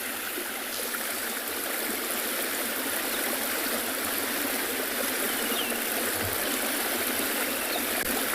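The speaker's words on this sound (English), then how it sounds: "Nice though, with the sound of the water running." Water runs steadily over a dam on a South African game reserve at sunrise, a continuous broad rushing that stays even and fairly close throughout, with no voices.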